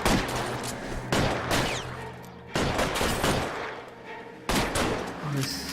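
Gunfire erupts in a shootout in the L.A. Noire VR game, coming as loud, close volleys that start abruptly roughly every one to two seconds, each followed by a decaying roar, with a voice briefly heard among them.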